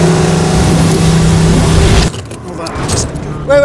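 A $30 million supercar driven hard, a loud sustained engine roar with strong harmonic tones for two seconds, then cutting out abruptly into quieter rustling and a voice near the end.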